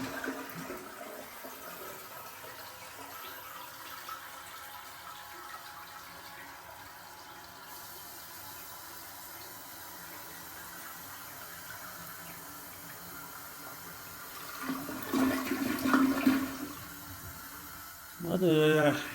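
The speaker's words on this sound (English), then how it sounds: "Alright, let's flush this." A pink toilet in a house being inspected is flushed, giving a rushing, gurgling swirl of water that rises near the end after a stretch of low background hiss, with speech heard along the way.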